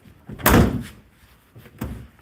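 A sagging door on a classic car slams shut twice, a heavy thunk followed by a second, softer thud about a second later, close up with no one talking.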